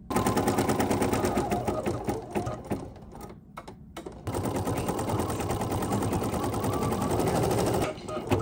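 An embroidery machine sews a placement stitch for a red mitten applique, a loud rapid mechanical chatter of needle strikes that pauses briefly midway, then resumes at a steady pace.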